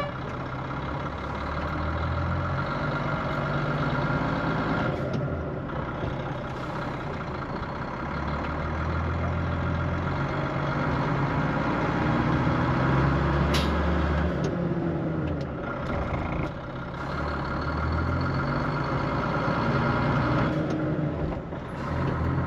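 An ERF truck's diesel engine pulls away and drives on, a steady heavy low rumble throughout with brief dips and a hiss or two, close and loud with no talking.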